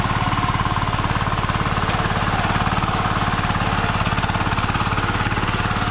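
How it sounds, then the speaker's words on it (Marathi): A tractor engine runs close by on a rice-planting farm, a loud, steady, rhythmic chugging that holds without a break and has no voices over it. "पारस ट्रॅक्टर चालवत होता आता साईलने घेतला ट्रॅक्टर चालवायला"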